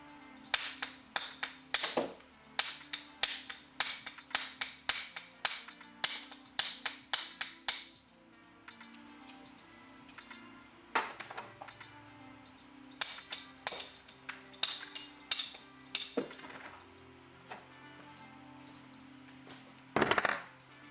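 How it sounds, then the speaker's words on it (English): Repeated sharp banging and clacking as dental material is knocked off dental articulators, a dense burst of irregular impacts for several seconds, then scattered louder knocks after a pause, with no talk over it. "beating off dental material from articulators definitely can be something else"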